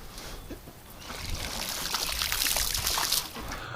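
Water pours steadily from a garden hose near a duck in a winter farmyard, a broad hissing splash that swells louder toward the end, with no voices.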